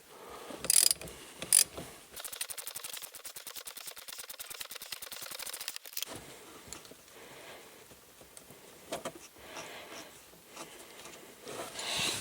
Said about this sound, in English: So I'm just going to take my 12mm wrench, put it on this side, and then take my 12mm socket.